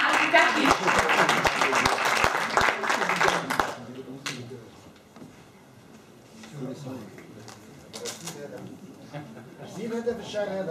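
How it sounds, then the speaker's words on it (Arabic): An audience at a cultural gathering gives Abdelkader Bendahmane a burst of lively clapping that fades out after a few seconds, followed by someone speaking close to the microphone. "إذا صفقوا على عبد القادر بن دحمان."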